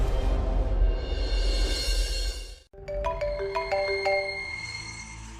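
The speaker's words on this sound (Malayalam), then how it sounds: "ഇവളെന്തിനാ എന്നെ വിളിക്കുന്നേ?" A mobile phone ringtone sounds in a Malayalam TV serial scene: after a muffled, noisy stretch and an abrupt cut, clear melodic electronic notes chime in a repeating pattern, close and loud.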